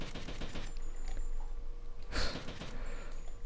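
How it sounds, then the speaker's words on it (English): Scattered gunfire from characters shooting in GTA: Vice City, with one louder, nearer shot standing out from a busy background of game noise. "Right, what are they shooting at exactly?"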